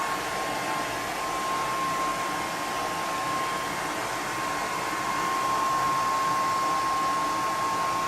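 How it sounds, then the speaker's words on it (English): A hair dryer fitted with a diffuser runs on medium heat at medium speed, a steady, close whooshing blow with a faint high whine that holds unchanged throughout, no talking over it. "So I'm going to set the diffuser on medium heat and on the medium setting."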